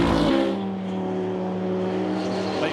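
BMW M3 GTR and Aston Martin DBR9 GT race cars running close together on a circuit, a loud sustained engine drone holding steady pitch as the cars pass near, with no talk.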